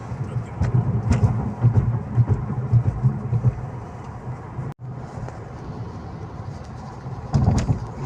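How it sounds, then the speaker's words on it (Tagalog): A loud vehicle engine runs steadily near the Blue Mountains outside Sydney, with a low rumbling drone that swells toward the end. "Lakas sumatak ng makina, no?"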